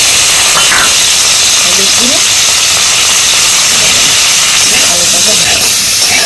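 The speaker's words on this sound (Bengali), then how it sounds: "আলুটাকে লাল করে ভেজে নেব।" Potatoes frying in hot mustard oil in a kadai, giving a loud, steady, close hiss and sizzle that holds for several seconds with no speech.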